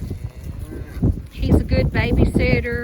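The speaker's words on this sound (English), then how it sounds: "he's a good cow. He's gentle. He's a steer." Steer (cow) on a farm lowing under a person's nearby talk, a drawn-out harmonic moo rising in the second half of the clip.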